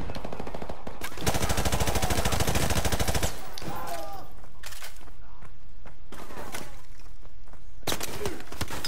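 Automatic gunfire in the video game Call of Duty Modern Warfare Remastered: a loud, sustained rapid-fire burst lasting about two seconds, followed by scattered shorter shots and bursts.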